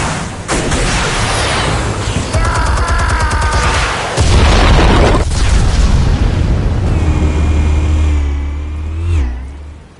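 Explosives detonating in a Batman video game, loud booming blasts with rumbling low end and a roaring, engine-like sustained burst that swells again midway before fading out near the end.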